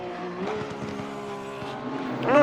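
GT race cars at night at Suzuka circuit in a sim racing game, including a Mercedes-AMG, a Porsche and a Ferrari: a continuous droning engine tone with shifting pitch and a rising roar at the end.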